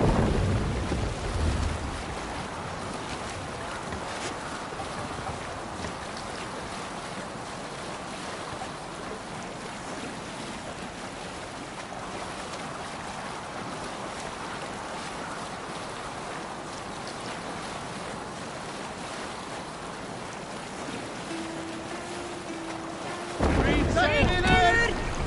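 A longship sails on open sea in Assassin's Creed Valhalla, with a continuous wash of waves and wind rushing around the hull, faint voices beneath, and a louder burst of sound near the end.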